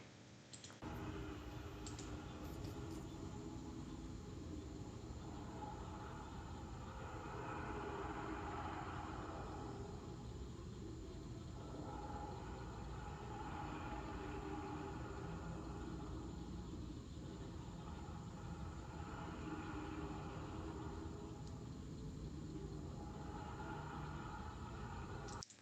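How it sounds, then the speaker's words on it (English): Steady low rumbling hum across a night sky over a residential area, faint and continuous with slow swells, resembling distant aircraft or a far-off train, with no talking. "the same rumbling noise I hear in the middle of the night"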